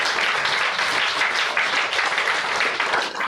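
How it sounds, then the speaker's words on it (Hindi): A church congregation clapping hands together during a sermon, a dense continuous burst of applause filling the space. "ताली बजा के प्रभु का धन्यवाद करें"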